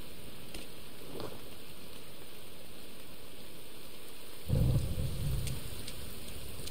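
Rain in a PS5 forest survival video game, a steady soft hiss with a few faint crackles and a louder low rumbling burst like distant thunder near the end.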